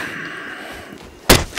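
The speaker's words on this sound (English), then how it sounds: "the sound you just heard there was me getting a comment on the YouTube" A notification chime for a new YouTube comment, heard as a single short, loud burst near the end of the clip, standing out against quiet background game audio.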